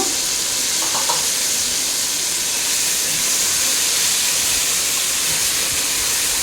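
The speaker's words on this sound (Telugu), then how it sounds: "ఆనియన్ వేగిన తర్వాత ముందుగా మనం నానబెట్టుకున్న చికెన్ వేసేస్తున్నాను" Marinated chicken sizzles and fries with onions in a pan for a Kolkata-style chicken biryani, a steady, loud, close hiss with no break and no talking.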